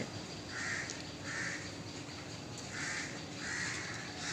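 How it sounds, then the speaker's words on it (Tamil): Crows caw outdoors in four harsh calls in two spaced pairs, moderately distant over a low steady background, with mynas and pigeons also present. "காக்கா கத்துறதை பார்த்துட்டு வந்து கூட இருக்க எல்லாம் கத்துது மைனா கத்துது புறா கத்துது"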